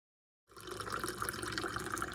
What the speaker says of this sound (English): In a pot, pour 12 cups of water.